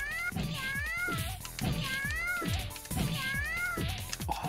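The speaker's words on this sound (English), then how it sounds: "Oh, that's a nice pitiful meow" A cat character called Felicia in a retro fighting video game gives four drawn-out, pitiful meows in a regular rhythm about one second apart, loud and close, with game sounds around them.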